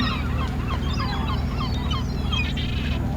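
Gulls call at Howth harbour in Ireland, where people toss fish to seals, their cries scattered over a constant low, droning hum.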